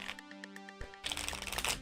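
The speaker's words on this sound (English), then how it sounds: "Let's just shuffle this up a few more times." Tarot cards being shuffled, a quick papery riffling and flicking that grows busier and louder partway through, with a steady tonal hum running underneath.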